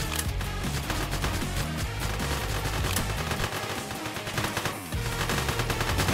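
Rapid bursts of video-game gunfire in One Armed Robber, a heist shooter, crackle in dense repeated volleys over a loud music track, with a brief lull near the end before firing resumes.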